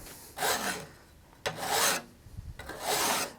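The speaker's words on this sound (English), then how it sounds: "I use a file to smooth out the edge and remove any deviations in the piece of steel" A file rasps along the edge of a steel card scraper held in a vise, three slow, even strokes heard up close, each a bright scraping rush separated by short pauses.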